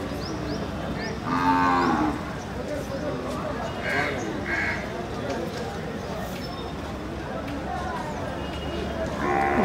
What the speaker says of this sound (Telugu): గేదె బాగుంది, ఇది కూడా సూడి గేదె.